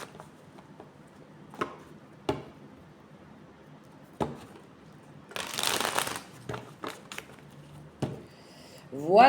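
Tarot cards being shuffled by hand: scattered soft taps and card slaps, then a dense riffling burst lasting under a second, followed by a few more sharp flicks in a quiet room.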